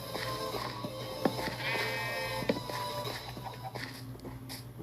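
Minecraft sheep bleat in a wavering cry amid a busy game soundscape, with footstep-like taps and clicks scattered throughout at moderate volume.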